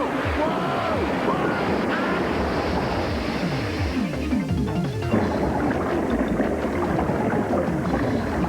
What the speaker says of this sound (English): the water's draining back into the sewers